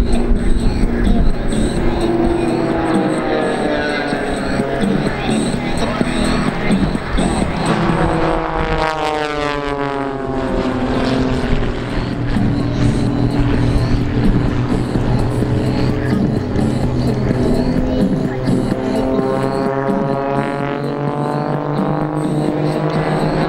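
Propeller aerobatic planes fly a formation loop at the Avalon Airshow, a loud, continuous engine drone whose pitch rises and falls as the aircraft climb and pass, with a strong sweeping swell midway.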